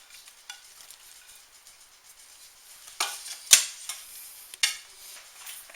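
Shrimp stirred back into a hot pan for garlic alfredo shrimp bake: a faint steady sizzle with a few sharper utensil scrapes and clinks near the end, no voices.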